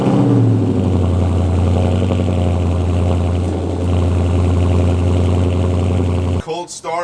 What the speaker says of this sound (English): Cold start Corsa exhaust.